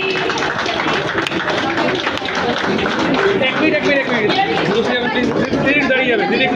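Applause and clapping fill an award ceremony at a photography exhibition. A crowd claps and chatters steadily and loudly throughout the short stretch.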